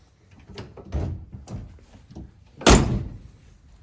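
Door of a 1969 Ford Mustang barn find, sitting unused for over 20 years, shut with a solid loud thunk near the end, after several softer knocks and handling sounds close by.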